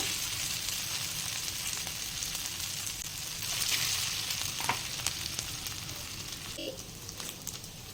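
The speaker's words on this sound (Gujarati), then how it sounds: "બતાવું કે આપણી કટલેસ કેટલી સરસ ક્રિસ્પી બની છે અવાજ આવી રહ્યો છે" Farali cutlets sizzle steadily in hot oil for a Navratri fasting recipe, a continuous crackling fry with a few sharper pops and a brief clink near the end, heard close and alone without speech.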